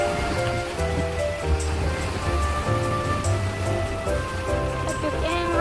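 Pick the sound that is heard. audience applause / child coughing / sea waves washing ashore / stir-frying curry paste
sea waves washing ashore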